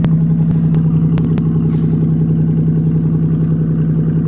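A 1990 Buick Century with a 3300 engine running just after a cold start in winter, a steady, loud low idle with light clatter and a few sharp clicks in the first second and a half.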